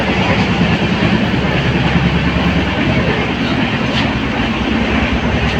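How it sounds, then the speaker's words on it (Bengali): A train rolls past close by, loud and continuous, with a dense rumbling clatter of wheels on rails that holds steady for several seconds. "একটু দেখো ট্রেনগুলো"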